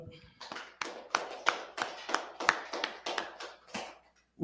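Audience claps in slow, spaced bursts at an outdoor rally, about a dozen distinct claps with a faint reverberant tail, fairly quiet and without speech.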